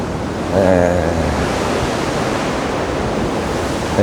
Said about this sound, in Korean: 파도도 조금 치고 있고 확연히 움직임을 느낄 수 있는 그런 정도의 형태입니다